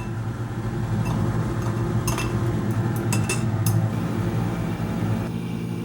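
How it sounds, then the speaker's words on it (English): Ice cube dropped into a glass vessel of warm gold refining solution, giving a few sharp glassy clinks and taps over a steady low background hum. "Now I'm going to add an ice cube to cool the solution down so I can filter it."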